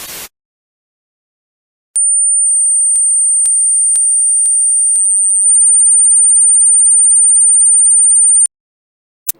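Two steady pure sine tones sounding together to produce combination tones, or ghost notes, in a single sustained high tone lasting several seconds, broken by a few short clicks and ending abruptly. No voices are heard.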